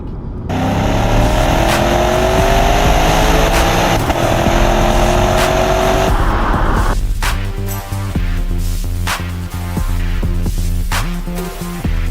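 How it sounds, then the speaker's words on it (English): A loud 2020 Lexus GS F V8 engine climbs in a rising drone and then settles into a low, rumbling warble with uneven pulsing beats, heard from close by. "V8, phenomenal. It makes kind of a low rev warble"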